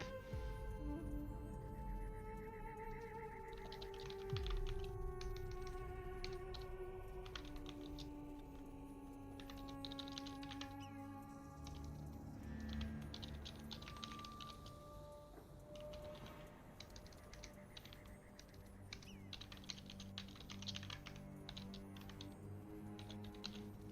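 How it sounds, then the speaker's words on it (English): Quick bursts of computer keyboard typing, light clicky keystrokes coming in irregular runs over a bed of game music and effects. "Just typing quickly something."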